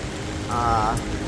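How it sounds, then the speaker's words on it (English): Heavy rain pours onto a boat out on open water in fog, a steady, dense hiss that fills the whole stretch with no voices. "now we're really getting some heavy rain and fog"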